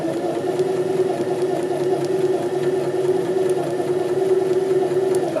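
A sewing machine runs steadily as it stitches a French seam with the fabric's wrong sides together, giving a close, continuous whirring hum at an even speed with no talk.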